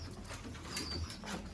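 Sialkoti pigeons in pairs coo softly in a loft, low murmuring calls under a steady background hum, with a faint flutter of wings nearby.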